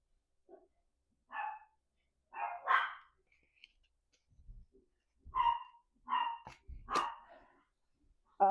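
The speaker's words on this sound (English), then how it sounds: "I'm hoping the dogs are going to stop barking." Dogs bark repeatedly in short separate bursts, a few barks spaced across several seconds over otherwise quiet background, with a thump-like knock in between.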